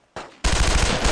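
Gunfire bursts in the World War II shooter game Brothers in Arms, a short quiet lead-in followed by a loud, dense rapid machine-gun rattle.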